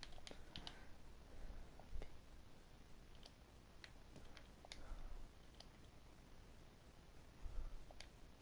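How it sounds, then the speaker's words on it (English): Keyboard typing, heard as faint scattered clicks and taps at irregular intervals over a quiet hiss. "Alright, I'm typing in his name."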